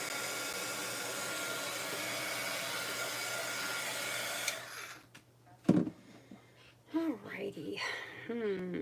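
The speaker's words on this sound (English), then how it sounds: "my heat gun. Embossing heat tool. It likes to warm up quick anymore." Embossing heat gun blowing a steady, loud whooshing hiss for several seconds, then switching off, after which a person speaks near the microphone.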